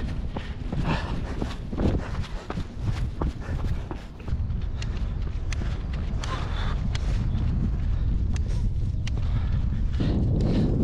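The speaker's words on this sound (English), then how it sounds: "bit windy out here" Gusty wind buffets the microphone in a steady low roar on an exposed ridge, with rhythmic footfalls of someone running an ultramarathon underneath.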